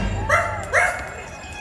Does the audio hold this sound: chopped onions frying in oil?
no